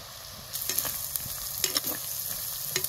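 Salted onion fries in a pan, a soft, steady sizzle broken by repeated scraping stirs and clinks of a utensil, fairly quiet and close, with no talking.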